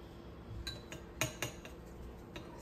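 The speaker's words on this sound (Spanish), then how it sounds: "Vamos a revolver bien, bien, bien. Que se revuelva bien la catsup." A spoon clinks against a glass or bowl while stirring ketchup into a Mexican shrimp cocktail, producing several light, scattered taps and scrapes up close in an otherwise quiet kitchen.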